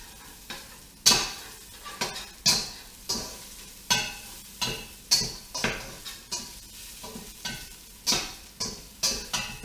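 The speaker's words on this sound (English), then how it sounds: "let me stir this around" Tomato soup is stirred in a pot with regular rhythmic strokes, each pass a close scrape and clink of the spoon against the pot, over a soft steady simmer with no voices.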